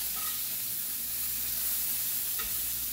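Smoked fat sizzles steadily in a frying pan being greased for hashbrowns, a continuous close frying hiss with no talk.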